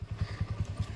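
Motorcycle engine idling close by as the bike is taken out for a ride, a rapid low thudding putter with even pulses, no talk over it.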